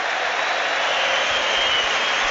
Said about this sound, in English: Tonali getting a good ovation from the St James's Park crowd